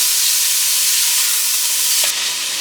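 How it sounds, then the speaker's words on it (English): Onions sauté in a pan on a stovetop set to medium, giving a continuous loud, close sizzle with an even hiss that dips slightly near the end. "I'm gonna saute this for a minute."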